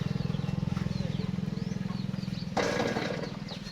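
An old Japanese diesel tractor engine with glow-plug preheating chugs in a fast, steady rhythm close by, then roars louder as it revs up and keeps running.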